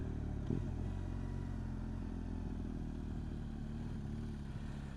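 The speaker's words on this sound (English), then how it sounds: "I decided to take the baffle out of the fuel exhaust end can, give it a little bit of a fruity sound." Motorcycle riding on a winter road with the baffle removed from the exhaust end can, giving a continuous low engine drone with a brief clatter early on, steady and fairly distant throughout.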